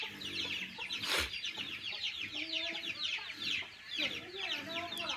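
Chickens cluck and chatter steadily in a Vietnamese rural farmyard, with a dense flock sound running throughout at moderate volume and a brief louder knock near the start.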